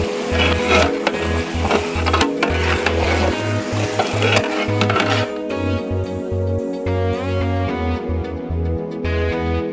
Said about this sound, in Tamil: இப்போ நம்ம சிக்கனை போட்டுடலாம் பிரியாணிக்கு.